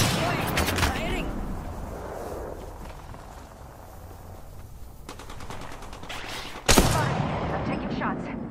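Gunfire in a shooter video game, rapid bursts of shots and clattering at the start, quieter action in between, then a loud blast near the end followed by more firing, with a player calling out over it.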